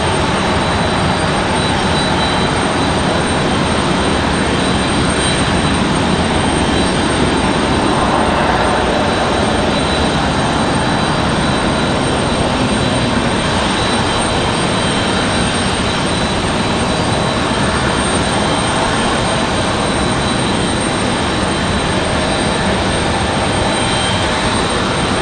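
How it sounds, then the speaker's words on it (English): An Embraer E-175 jet lands in a strong crosswind at Raleigh-Durham International Airport, its engines giving a loud, continuous roar mixed with broad wind rumble that holds steady and close throughout. "That E-175 touching down."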